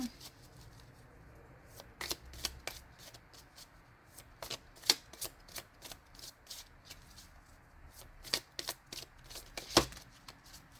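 A deck of oracle cards is shuffled by hand with a string of quick, crisp riffling snaps and taps at an uneven pace. The sounds are close and fairly quiet, with no talk over them.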